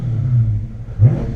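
A 2015 Dodge Charger Scat Pack's V8 idles with a deep rumble, broken by two quick throttle blips that swell the engine note, each short and close.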